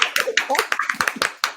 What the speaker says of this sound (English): Let us all clap.